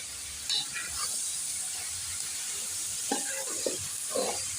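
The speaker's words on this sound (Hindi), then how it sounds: "थोड़ा सा मैंने आलू भी बीच में फ्राई कर दें" Potatoes fry in a pan for Punjabi-style aloo bhujia, giving a soft, steady sizzle with a few faint clicks and stirring touches.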